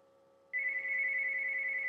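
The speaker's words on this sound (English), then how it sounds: "My house phone's ringing for all these disruptions." A house telephone rings with a steady, sustained electronic tone that begins abruptly after a quiet half-second and continues unbroken, loud and close, with no talk over it.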